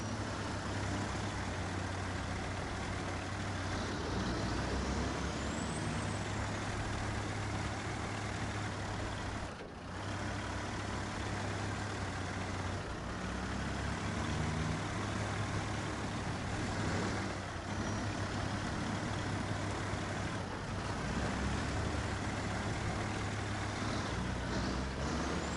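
Engine of a Kenworth C500 truck in a video game, a steady low drone running throughout with faint hiss and occasional brief air-brake-like releases, no talking.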